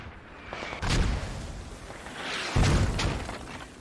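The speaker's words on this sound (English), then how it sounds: "And here are the mortars." Mortar rounds landing in the Squad video game on the Fallujah map, two heavy booming impacts a couple of seconds apart, rumbling with a sharp crack over quieter background noise.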